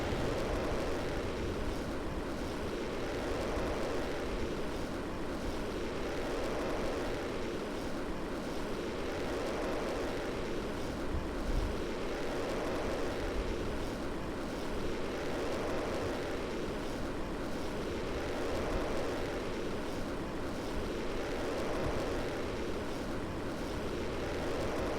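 A rocket engine roars steadily at launch in Kerbal Space Program, a loud, unbroken rumbling thrust that holds level throughout without any talk.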